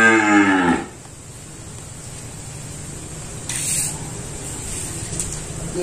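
Sindhi cow mooing on a farm, one loud close moo with rich harmonics at the start, then quiet farmyard background with a brief hiss.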